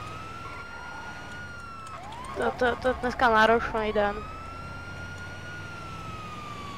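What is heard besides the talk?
police car siren in a roleplay video game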